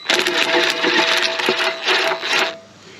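An impact wrench works a bolt on a quick hitch for a Chinese mini excavator, giving several loud, close rattling bursts separated by brief pauses.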